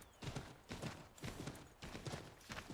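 Horse hooves clip-clopping at a steady riding gait in the video game Assassin's Creed III, a repeated rhythmic pattern of hoofbeats in bursts, fairly close and clear with no talk over it.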